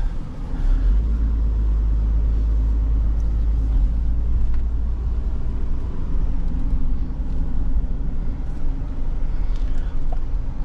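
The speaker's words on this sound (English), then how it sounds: "let's take it for a quick drive." A 1993 Toyota Land Cruiser VX-Limited, a triple-locked example with 55,000 miles, drives along with a steady, loud low engine and road rumble heard from inside the cabin, unbroken throughout.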